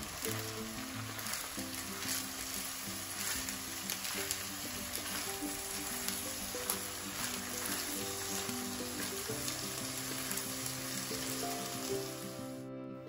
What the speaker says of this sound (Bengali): এখন চাউলগুলো একটু ভালোভাবে উল্টিয়ে পাল্টিয়ে সুন্দর করে ভেজে নেব।